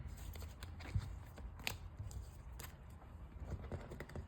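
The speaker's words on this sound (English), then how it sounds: "And that's our shuffle." Digimon trading cards are shuffled by hand: quiet, uneven riffling and soft clicking bursts, close and faint, with no talking.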